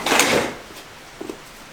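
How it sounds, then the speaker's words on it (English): A rear door of a house opens with a brief scraping rush at first, then a faint click or rattle a moment later, close by and with no talk. "Can you open the back door for me?"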